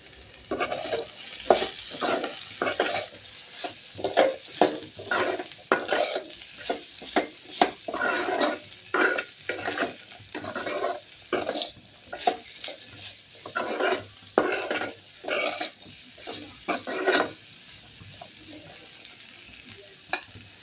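Okra and carrot stir-fry stirred in a pan, spatula scrapes and pushes coming in an irregular rhythm over a steady sizzle, close and fairly loud, with no talking.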